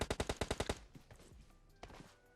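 A fast burst of about eight sharp, loud shots from automatic gunfire in PUBG Mobile, followed by quieter rattling and a single fainter shot later on.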